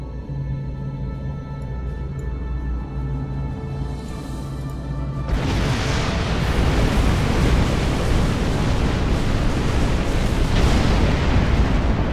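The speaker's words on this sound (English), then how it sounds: "Okay, detonation wasn't that great, but still, it must have destroyed the place." A detonation in the space game Star Trek Online bursts in with a sudden loud roar that swells into a sustained, rumbling wash of noise for several seconds.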